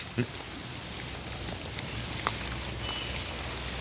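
Steady rain patters down around an outdoor cooking fire where a pot of egg biryani simmers with its spices covered, forming a continuous wash of drops with a soft knock near the start and a brief rise in the middle.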